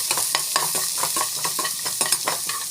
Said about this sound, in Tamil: சால்ட் வந்து ஆட் பண்ணிக்கிறோம். வந்து வதக்கிக்கோங்க.